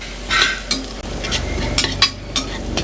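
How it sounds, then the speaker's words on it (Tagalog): Garlic browning in a pan for mung bean soup, stirred with a utensil, giving a steady close sizzle broken by several sharp scrapes and clinks of metal against the pan, with no talking. "So hintayin lang natin mag-brown ng kaunti yan para medyo garlicky ang sabaw"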